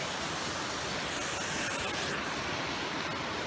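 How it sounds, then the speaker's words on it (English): Water rushing over the top of King's Cascades waterfall, where a small creek begins its drop, a steady broadband roar with no voices. "this is the top of King's Cascades, where the falling point begins"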